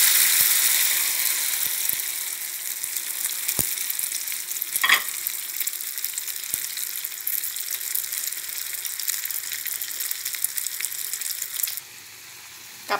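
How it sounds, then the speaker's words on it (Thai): Beaten eggs hit hot pork lard in a pan for a Thai-style omelette, producing a steady bright sizzle with a few sharp clicks and a brief louder spurt midway. The sizzle drops away abruptly near the end. No one speaks. "น้ำมันร้อนแล้วนะคะน้ำมันหมูเทไข่และส่วนผสมลงไปเลย"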